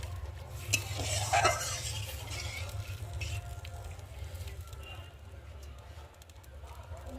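A spatula stirs a boiling Bengali bhangar fish curry with oil and chili in a pan, giving soft scraping and a few sharp clinks over a low bubbling simmer, with a voice speaking nearby.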